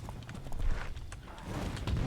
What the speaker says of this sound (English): we want to be careful with this horse because it will knock over our minions